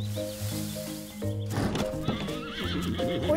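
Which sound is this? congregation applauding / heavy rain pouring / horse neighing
horse neighing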